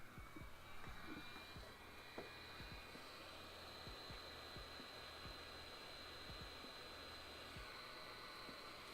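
A heat gun blows a steady, loud airflow roar while melting plastic during a DIY shredder build, holding an even hiss throughout with a few faint clicks and taps underneath.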